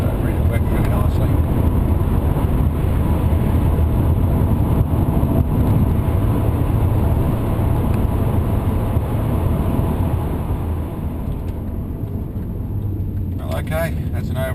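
A supercharged LS1 VZ automatic ute drives along with a loud, steady engine and road roar filling the cabin, while someone talks over it throughout.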